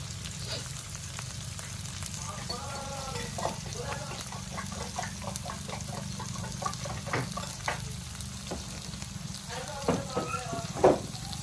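Bitter gourd (ampalaya) sautéing in a pan, a low continuous sizzle with scattered spoon scrapes and clinks, speech in the background throughout.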